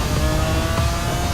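A Lamborghini Aventador SVJ Roadster with a single-clutch robotized gearbox roars loudly at close range, a dense, sustained engine blare during a shift.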